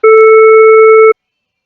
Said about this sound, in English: we will generate a tone 5 times the frequency of the original tone and 1/5 the volume